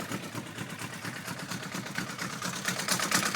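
A Kubota engine in an Aixam microcar idles steadily at close range, a continuous mid-low hum that grows slightly louder toward the end, with no talking over it.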